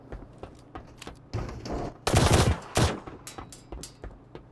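Bursts of video-game gunfire in Star Citizen, a cluster of loud rapid shots with a heavier volley in the middle, trailing into scattered single reports.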